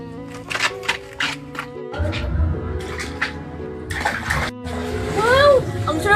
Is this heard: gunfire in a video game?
no